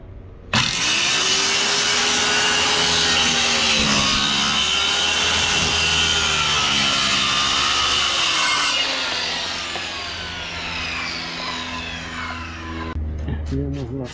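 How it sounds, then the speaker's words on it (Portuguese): A saw cuts steadily through a wooden countertop being fitted for a motorhome sink, loud and close with a continuous rasping drone that eases toward the end; a voice speaks briefly over it. "Agora é o último corte no tampo."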